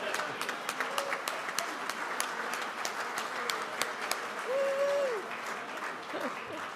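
An audience applauds a speaker at the close of a talk, steady dense clapping filling the room throughout, with a brief voice cutting in near the end.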